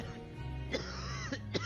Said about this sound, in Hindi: पापा, आप खांसना बंद करोगे प्लीज?